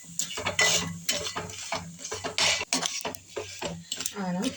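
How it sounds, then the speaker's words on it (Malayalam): Crab sautéed with tomato and onion in a pan, giving close, busy clatter and scraping of a utensil against the pan in quick irregular bursts, with only a faint sizzle underneath. "നമുക്ക് ഈ ഞണ്ട് നമുക്ക് തക്കാളിയുടെയും സവാളയുടെ ഒക്കെ ഈ കൂട്ടിൽ ഒന്ന് നല്ലപോലെ വഴറ്റി കൊടുക്കണം."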